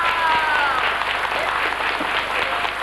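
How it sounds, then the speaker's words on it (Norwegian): A school crowd at a casino-style game show event breaks into steady applause for a contestant, dense clapping with a couple of whistles and some voices mixed in. "Gi en applaus for henne."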